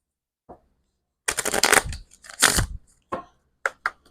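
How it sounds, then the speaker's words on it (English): A tarot card deck being shuffled by hand, several separate riffling bursts of papery flutter of uneven length with short quiet gaps between them, close and clear with no talk. "Let me shuffle it first."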